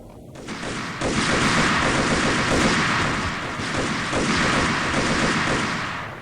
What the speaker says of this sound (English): He threw another gosh darn grenade.